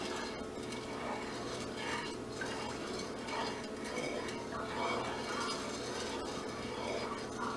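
Sugar being stirred into a pot of liquid while making Dr. Pepper kombucha, a steady scraping and clinking of a utensil against the pot running throughout, with a faint mechanical rattle underneath.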